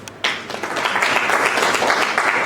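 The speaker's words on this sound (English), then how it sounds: "Another round of applause for him." An audience applauds after a conference talk, steady sustained clapping that starts abruptly and fills the room at close, even loudness.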